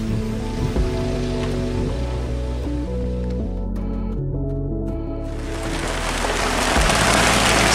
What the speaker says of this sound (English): Sunshine 1 minute, rain the next.